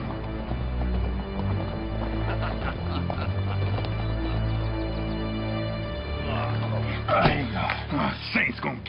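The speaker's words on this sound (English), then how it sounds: "Grab his horse." A horse walking in a western movie scene, with clip-clop hooves and an occasional whinny mixed under a steady music score and movie dialogue.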